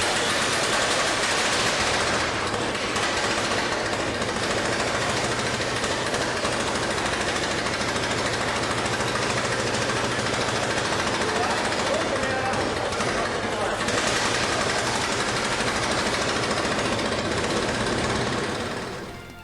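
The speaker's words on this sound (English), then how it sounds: "we got the engine installed and ready to test run" An antique Ford Model F engine fitted to a restored chassis runs on test, a dense, steady mechanical clatter and rumble close by, continuous for the whole stretch before fading at the end, with talk present over it.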